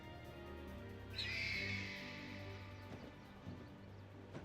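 Birds in the Final Fantasy XIV: Stormblood video game give a bright, sustained chirping burst over a low musical bed, strongest for about a second before fading.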